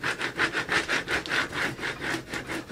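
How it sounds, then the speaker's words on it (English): Vinyl stencil being scraped firmly onto transfer tape, a rhythmic series of about a dozen back-and-forth rubbing strokes, close and steady with no talking. "You scrape it down really good to make sure those pieces of vinyl stick to your transfer tape."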